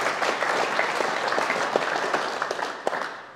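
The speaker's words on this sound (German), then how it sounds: "das ist auch ein Applaus bitte wert" An audience at a motorsport talk event breaks into applause, dense continuous clapping from many hands at close range, fairly loud and steady for a few seconds.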